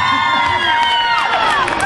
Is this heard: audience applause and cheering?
yes